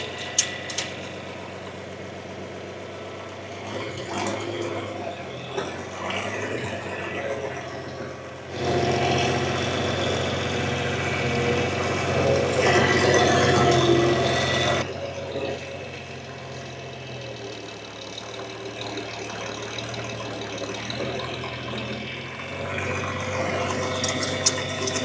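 An old tractor engine idles in a steady, rough drone that swells louder partway through and then settles back down, with continuous background noise throughout.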